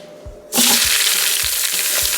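Mild Italian ground sausage hits hot oil in an Instant Pot, and the quiet room turns into a sudden loud, steady sizzle that keeps going with a few low thumps of movement.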